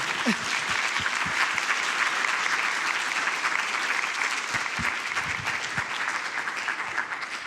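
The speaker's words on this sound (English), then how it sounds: "we need to give him another applause because this has been wonderful" Sustained audience applause after a diversity lecture fills the room, dense and steady throughout with a few louder individual claps near the front.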